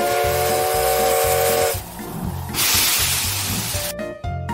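A steam train whistle sounds loudly and steadily, then gives way to bursts of hissing steam, with a rhythmic low chugging underneath.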